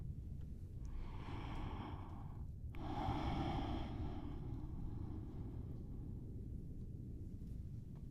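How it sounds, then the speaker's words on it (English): Slow Ujjayi breathing through the nose with the mouth closed, a soft hissing airflow in two long breaths over a steady low background rumble, close and quiet with no talking. "I want you to breathe as if you are fogging a mirror. The mouth is closed, breathing through the nose."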